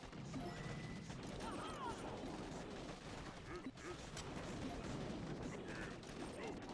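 Rifle fire from defensive bunkers in the mobile strategy game Boom Beach, a dense, steady crackle of small gunshots and clattering impacts, with faint talk over it.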